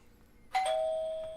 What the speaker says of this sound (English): someone just rang a doorbell